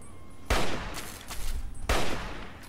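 Gunfire in the PC video game Fallout 3: two heavy, loud bursts of shots about a second and a half apart, with quieter shots and rattling combat noise between them.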